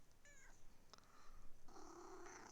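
A pet cat gives a few short, fairly quiet meows and a soft caterwauling cry in a small indoor room, with no talking.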